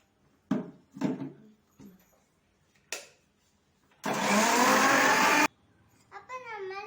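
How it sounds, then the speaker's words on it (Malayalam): A mixer grinder blends an egg mixture for homemade ice cream in a single loud, whirring burst of about a second and a half, preceded by a few knocks and handling sounds. "നമുക്ക് ഇത് നല്ലതായിട്ട് മിക്സിയിൽ അടിച്ചെടുക്കാം."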